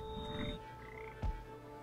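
A frog croaks in the video game Papo & Yo: a single short, loud croak rises from a steady electronic game hum that drones underneath, with brief tonal chirps earlier in the clip.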